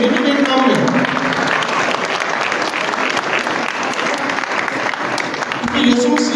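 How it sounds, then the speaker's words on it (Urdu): A church congregation bursts into loud, sustained applause, close and dense, dipping slightly before swelling again near the end. "ان کے لیے تالیاں ہو جائیں۔ بھائیوں کے لیے بھی تالیاں"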